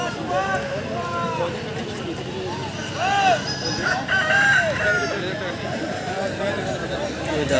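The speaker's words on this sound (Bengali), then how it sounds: "প্রায় ছয় কেজি ওজনের মুরগি" Large chickens of about six kilograms at a crowded poultry market at Poradih haat, with repeated roosters crowing and hens clucking close by, overlapping throughout while people talk in the background.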